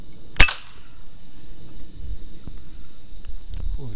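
An FX Impact air rifle fires a single sharp, close crack at a rat, followed by quieter background noise.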